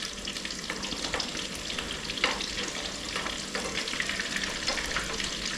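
Rissoles fry in a pan, producing a constant close sizzle with small scraping taps as two spoons turn the patties, and nobody speaks.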